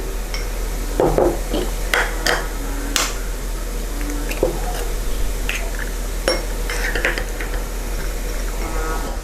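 Eggs whisked gently with a whisk in a bowl for kuih seri muka topping give soft irregular clinks and taps of metal on the bowl, spaced unevenly over quiet kitchen background.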